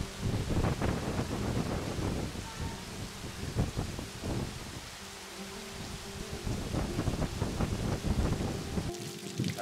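Steady rain with gusting wind buffeting the microphone in a stormy Taipei area, Taiwan, a continuous rough roar with occasional deeper rumbles, no voices.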